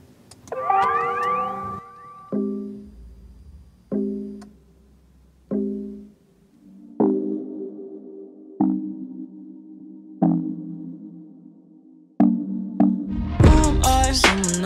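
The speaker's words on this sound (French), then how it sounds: "L'alarme de quand t'as pas mis ta ceinture" Car seatbelt reminder chime sampled in a XXXTentacion song, on a BMW: spaced, ringing tones that repeat at a steady pace, each fading out, with dense music swelling in at the end.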